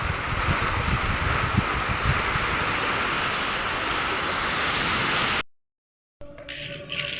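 Heavy rain pours steadily during a storm at an old house, a dense, loud, constant hiss that cuts out abruptly near the end, then returns fainter with other sounds.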